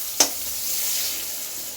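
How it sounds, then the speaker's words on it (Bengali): Potatoes hit hot oil seasoned with salt and turmeric, giving a sharp hiss as they drop in, followed by a steady, even sizzle of frying that carries on alone. "বেগুনগুলো একটু বেশি ভাজা হয়ে গেল, আলুগুলো ভেজে দিচ্ছি"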